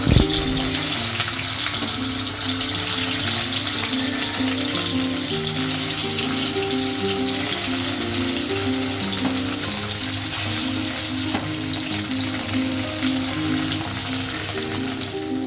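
Paneer pieces fry in a hot wok with a dense, continuous sizzle that stays loud and even for the whole stretch, over a faint tonal melody underneath.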